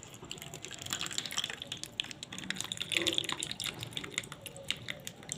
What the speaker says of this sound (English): Here is the water from the coconut.